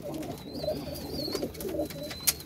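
Pigeons in a loft coo softly in low, repeated rolling calls close by, with a faint higher whistle and a brief click near the end.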